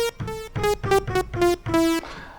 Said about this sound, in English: I'm going to add an arpeggiated rhythm synthesizer thing, and I've created a supersaw sound here.